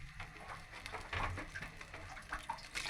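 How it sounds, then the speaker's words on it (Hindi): Water pouring into a pot of khichdi as it is made thin and liquid, a steady splashing, gurgling stream that runs for several seconds, close and fairly loud, with no talk over it. "2 से 3 गिलास पानी डाल दें"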